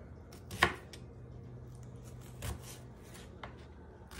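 A knife cuts steak into strips on a board, giving a few sparse, faint chopping knocks close by, with quiet room tone between the cuts.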